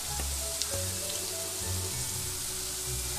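Crushed dried chilli sizzles in a hot pan for a vendakka mezhukupurati, a steady close frying hiss with faint crackles and no talk.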